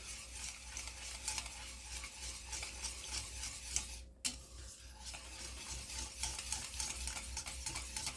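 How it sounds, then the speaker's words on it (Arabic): Yogurt and egg being stirred in a pot for Syrian shakriyeh, a quiet continuous scraping and swishing of a utensil against the pot, close and steady, with a brief knock midway. "هلا بحركهم قبل ما احطهم على النار."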